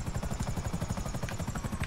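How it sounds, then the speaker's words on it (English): A police helicopter in a video game chops steadily with a rapid, even rotor thump, close and continuous for the whole stretch, with no voices over it. "The choppers are looking for you."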